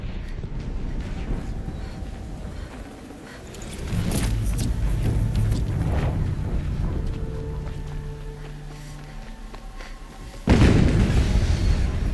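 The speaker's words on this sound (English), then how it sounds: "Another explosion." Explosions in the video game Horizon Zero Dawn, a rumbling blast swelling partway through and another sharp, loud boom near the end, set against rushing game ambience.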